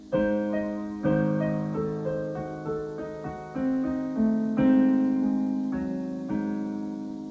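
A solo piano passage from Beethoven's Moonlight Sonata, first movement, played alone, with a series of chords and melodic notes struck at a moderate, steady pace, each ringing briefly before the next.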